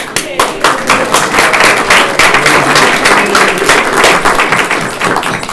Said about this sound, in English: we'll applaud him anyway